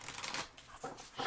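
Tarot cards are shuffled by hand, a close, soft, continuous riffling and sliding of card stock with brief flurries, no talking.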